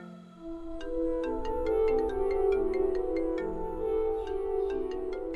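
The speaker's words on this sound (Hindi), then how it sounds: "मैं विश आंटी की कॉल आ रही है।" A mobile phone rings for an incoming call, playing a melodic electronic tone over a steady low hum, with bright repeated chime notes running continuously at a clear, even level throughout.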